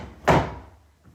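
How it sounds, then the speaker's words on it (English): A chair is moved away during a yoga session, giving one sharp thud or knock that fades quickly, with a faint bump just after and no talk. "Going to move that chair away."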